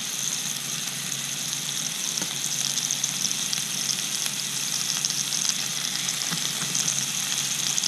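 Morel ravioli fry in butter with ramps, giving a dense, even crackling sizzle close by with a few faint pops and no voices.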